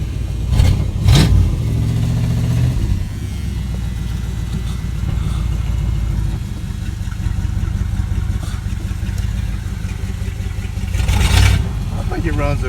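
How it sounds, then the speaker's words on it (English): A 1978 Dodge Magnum engine with an exhaust leak and an untuned carburetor idles loud and close in a steady, slightly uneven rumble, with a couple of brief louder bursts near the start and end. "I've already started it up, so I know it starts."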